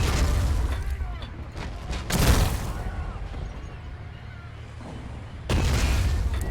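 Tank cannon fire in the World War II strategy game Men of War: Assault Squad 2, set at Dunkirk in 1940, with loud booming blasts standing out against rumbling battle noise and mechanical clatter.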